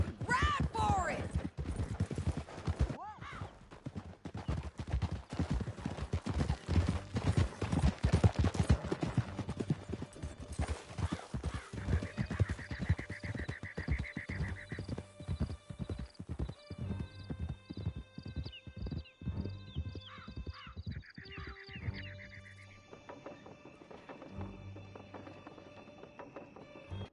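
Horses gallop in a video game with rapid, loud hoofbeats that later turn into slower, lighter clip-clops, a horse whinnies, and character voices speak over the ride.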